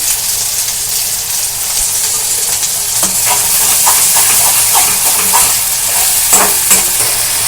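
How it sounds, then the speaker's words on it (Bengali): Green chilli spice mix being stirred and fried in mustard oil in a pan, a steady close sizzle with scraping stir strokes throughout. "এটা আমি তেলেতে একটু ভালো করে কষে নেব।"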